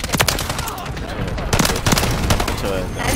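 Rapid automatic gunfire in the Modern Warfare 3 video game, loud bursts of shots with a sustained rattling texture, under faint game voice chatter.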